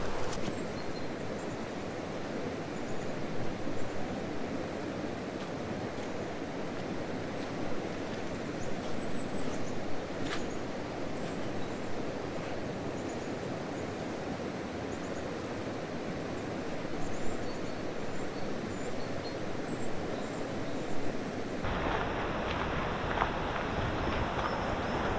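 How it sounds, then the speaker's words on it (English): A small waterfall stream in Sutherland rushes rapidly, producing a constant broadband roar of running water that stays steady throughout, close and moderately loud with no voices. "Now I do like rapidly running water"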